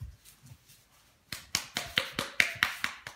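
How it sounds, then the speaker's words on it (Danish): Clapping done with only one hand: after a near-silent pause, about eight crisp, fairly close slaps follow in a quick, even rhythm. "Der klappes der. Det er lidt svært, når man kun skal bruge en hånd."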